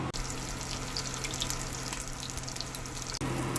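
Eggs cooking in a small frying pan, a steady loud broadband sizzle and crackle close up, continuous throughout with no talking.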